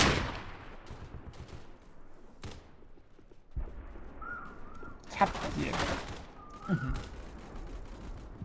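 Gunfire in the video game Scorched Earth: several sharp broadband shots and short bursts, a few loud and close, spread through a low, noisy game background.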